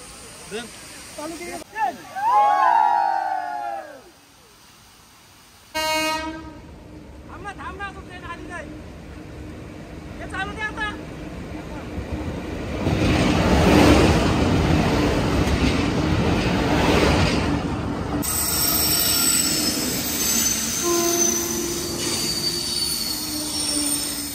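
A train passes near Zenith waterfall, Khopoli, with loud squealing wheels and a long, heavy roar building and holding, metallic screeches rising over it, voices briefly audible early on.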